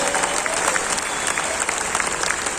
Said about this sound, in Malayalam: ഇവിടെ കിട്ടിയ കൈയടി ഒന്നും എനിക്കുള്ളതല്ല.